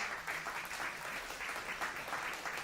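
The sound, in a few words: crowd applauding an obstacle fitness run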